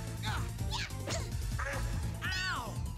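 Crows in the Persona video game give a rapid series of nasal, duck-like quacks, about five calls in three seconds, over dense, loud background music.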